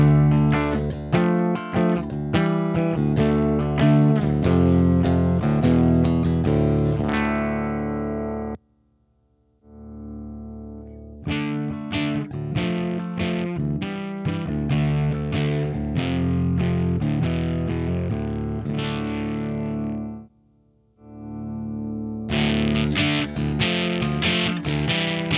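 An electric guitar is played through an Electronic Audio Experiments Model FET distortion pedal with normal and bright parallel channels, giving thick, loud, fuzzy riffs and chords in three passages separated by short silences.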